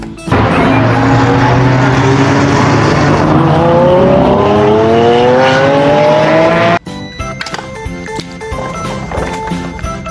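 A green toy race car plays its racing-engine sound effect, a loud continuous whine with a rising pitch sweep and tire-squeal texture for about seven seconds. It cuts off sharply, and quieter busy toy noise follows.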